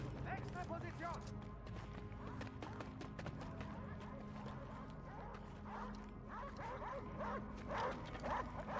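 A dog barks repeatedly in the shooter game Wolfenstein: Youngblood, the barks mixed into dense, continuous game noise with voices talking throughout.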